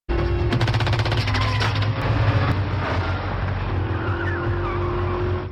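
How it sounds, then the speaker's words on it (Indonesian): A film car chase roars loudly with engines and tires, as rapid bursts of gunfire rattle at a pursued car early on, then the engine noise carries on alone at high speed. "ada sebuah mobil lain datang mengejar dan langsung menembaki mobil Romeo"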